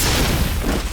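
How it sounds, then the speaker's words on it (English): A dense, rumbling blast from a Mass Effect battle, loud and close, with a broad low-heavy roar that sustains through the second before tapering slightly. "Ooh, a good explosion."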